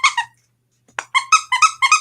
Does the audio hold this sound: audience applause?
no